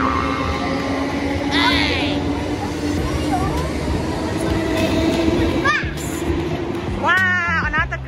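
A train rumbles at a platform at Wimbledon station in London, with squealing wheels and brakes, surrounded by a constant murmur of people and station noise.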